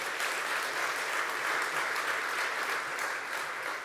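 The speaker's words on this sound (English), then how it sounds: "Let's give them a round of applause for what they do." An audience at a public announcement by Governor Hochul in Ossining applauds: steady, dense clapping, fairly close and even, sustained alone for a few seconds.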